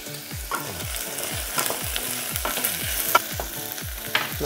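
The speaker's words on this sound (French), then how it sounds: "L'huile d'olive est chaude. On va y jeter nos légumes. On va laisser nos légumes revenir après 4-5 minutes en mélangeant régulièrement." Chopped vegetables sautéing in hot olive oil, a loud close sizzle broken by repeated spatula strokes against the pan roughly twice a second, steady and continuous with no talking.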